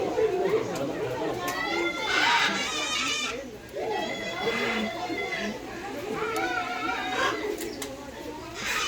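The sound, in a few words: bird cooing and chattering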